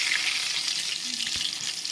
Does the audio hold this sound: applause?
no